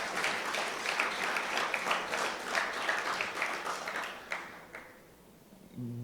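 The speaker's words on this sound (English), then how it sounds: "a round of applause is deserving" Audience applause for an institution and its board at a golf gathering: dense, steady clapping for about four seconds that fades away into near-quiet, with a brief low tone at the very end.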